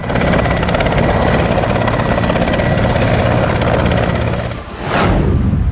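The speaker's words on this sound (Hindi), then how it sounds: "एक के बाद एक कई हेलीकॉप्टर रेगिस्तान के आसमान में अपनी धमक दिखा रहे हैं" Several helicopters fly over a desert during a military exercise, a loud continuous rotor roar with rapid blade chop, swelling as one passes close near the end.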